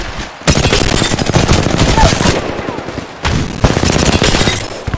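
Rapid automatic gunfire in an Apex Legends duo match comes in two long, loud bursts of dense shots with a short pause between, and a voice speaks faintly underneath.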